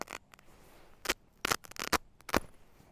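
Velcro strip on a down sleeping bag being pulled apart and pressed, giving several short, sharp ripping bursts in a loose, uneven rhythm, close and fairly quiet with brief pauses between tears.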